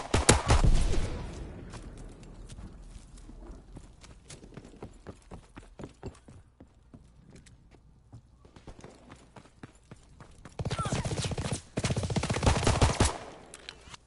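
Rapid bursts of gunfire in a World War-style multiplayer shooter game, with several loud volleys at the start and near the end and scattered sharper shots in between, no talking.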